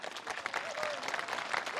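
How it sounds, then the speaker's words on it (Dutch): Audience at a village event clapping briefly in a quiet, distant burst of applause. "Van het publiek een groot applaus."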